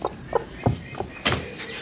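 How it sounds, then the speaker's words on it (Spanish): Chickens on a farm, a hen with her chicks, giving a few short, soft clucks and chirps spaced irregularly over under two seconds, close by and fairly quiet against faint background noise. "estaba escuchando yo pollitos"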